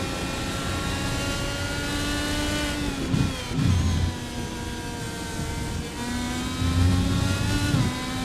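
IndyCar-style race car engine roaring on track at Elkhart Lake in the iRacing sim, a loud steady high-pitched drone with gear-change dips and revs.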